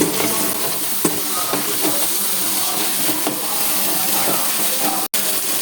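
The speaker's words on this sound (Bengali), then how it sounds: "এখন আমি মশলাগুলোকে ভালো করে কষিয়ে নিব" Spices sizzling and frying in oil in a pan for chicken curry, a steady loud hiss with occasional stirring scrapes throughout, and a brief dropout near the end.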